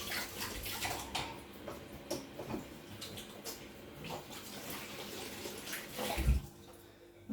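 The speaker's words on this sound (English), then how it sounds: "I'm just going to wash my hands" Tap water runs steadily in a kitchen sink while hands are washed during home cooking of pea soup with bacon, a soft continuous splash with some clatter near the end.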